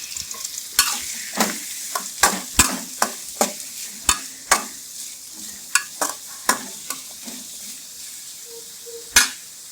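Three large chopped onions frying in a pan for a paneer gurma, with repeated sharp scrapes and clinks of a spoon stirring over a soft, steady sizzle, close and with no talking.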